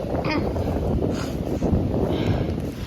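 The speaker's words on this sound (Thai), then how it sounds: "ลมกระโชกแรง" Strong gusty wind at Khao Loi batters the microphone outdoors. A dense, close, loud roar surges and dips without pause through the whole stretch.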